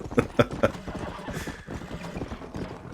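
A horse in the Red Dead Redemption video game gives three quick hoof clops, then a soft whinny follows, heard alone and fairly quiet with no voices.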